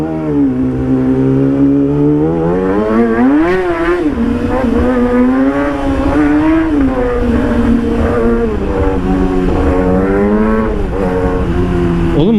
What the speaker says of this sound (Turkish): motor bir açıldı yalnız ha